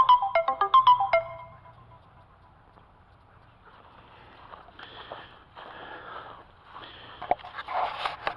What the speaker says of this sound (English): I would have to get an alarm in the middle of a video